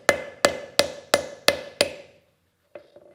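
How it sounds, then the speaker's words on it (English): Six evenly spaced light hammer blows ring out on hot steel as an insert is set into a forged seax blade at the anvil, followed after a pause by two fainter taps. "just small light taps will get it in there just fine, albeit a bit slower"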